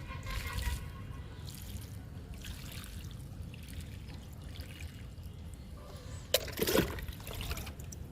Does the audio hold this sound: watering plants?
yes